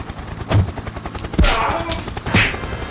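Three heavy gunshots ring out at uneven intervals, loud and booming, over a noisy dramatic background in a Batman motion comic.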